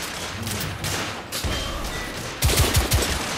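Rapid gunfire from a weapon in the PS4 video game The Order: 1886, a sustained crackling fusillade ending in a loud burst of several sharp shots close together.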